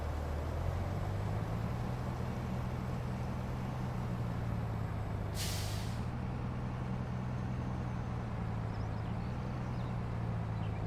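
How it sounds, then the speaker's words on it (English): A truck's air brake releases a short, sharp hiss while parking in Farming Simulator 19, set against a steady low engine idle that hums on throughout. "We're just going to park the truck here"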